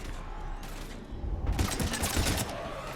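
Rapid automatic gunfire bursts from the Mass Effect 3 video game on Wii U, a loud sustained fusillade in the second half following quieter mechanical combat noise, with no talk.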